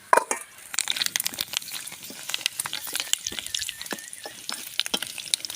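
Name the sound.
potato chips frying in a little oil at home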